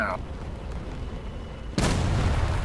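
A bomb explodes in the War Thunder combat game: a sudden loud, close blast cuts in after a quieter stretch of rumbling engine noise and rolls on as a heavy roar.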